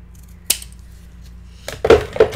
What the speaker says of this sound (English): and then we are going to trim it,